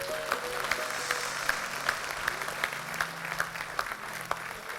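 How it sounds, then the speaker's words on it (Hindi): Audience at a Hindi speech gathering claps steadily, fairly faint and distant, with a few sharper individual claps standing out through the continuous patter. "मैं चाहता हूं एक बार अपने स्वागत में, अपने अभिनंदन में आप तालियां बजाएं।"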